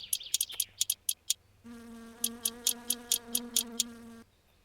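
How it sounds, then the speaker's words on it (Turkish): A mosquito and a housefly buzz in My Summer Car: quick ticking clicks, then a sustained, tonal, droning whine that holds for a few seconds and stops. "Biri sivrisinek biri kara sinek herhalde."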